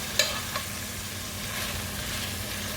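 Steaks sizzle in a pan with butter and thyme, a soft continuous crackle at moderate level with a couple of sharp pops early on.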